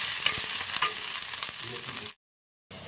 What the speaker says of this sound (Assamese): তেলখিনি গৰম হৈ গ'ল, দি দিলোঁ শুকান জলকীয়াখিনি, পিঁয়াজখিনি অলপ ভাজি ল'লোঁ।